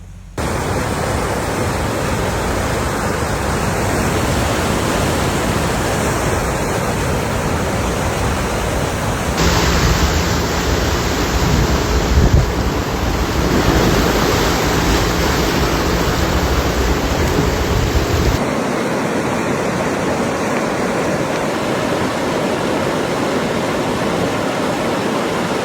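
Fast-moving floodwaters rush through a town in New York's Hudson Valley, sweeping away parts of a house facade, heard as a loud, continuous broadband roar that holds steady for the whole stretch, with no voices.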